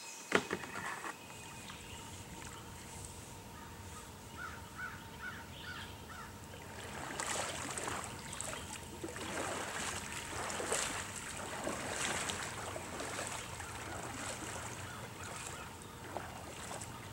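A kayak paddles out onto the Ohio River on a spring trip, with soft rhythmic splashes and water swirling against the hull, faint and steady, while distant birds call in the background.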